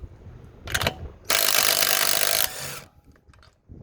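Metabo 18V/36V impact driver at its 150 foot-pound setting, a short burst followed by a loud, sustained hammering whir lasting over a second, then quieter clicks, with no talking.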